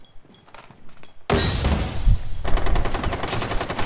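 Gunfire in Rainbow Six Siege: after a few quiet thumps, a sudden loud volley breaks out and continues as dense rapid automatic shots, close and harsh, with no talking.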